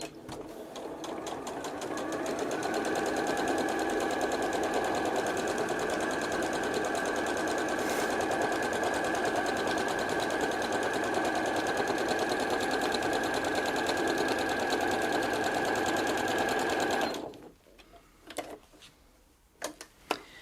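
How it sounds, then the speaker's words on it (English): A sewing machine stitches a straight seam steadily at speed for about seventeen seconds with a fast mechanical whir and ticking, then stops, leaving a few faint clicks. "we're going to go sew straight to the end again"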